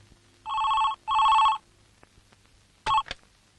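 An indoor telephone rings in two long electronic bursts, then a third ring is cut short. Quiet room tone fills the gaps between rings.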